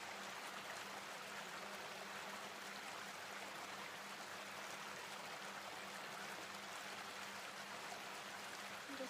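Water flowing steadily in the background during a meditation in Phnom Penh, Cambodia, a soft, constant broadband rush like a stream or fountain, faint and unbroken throughout with no talking over it.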